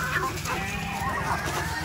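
Chicken clucking at close range in a rural outdoor setting, a steady loud stream of low clucks and murmurs with other fowl noise around it and no clear talking.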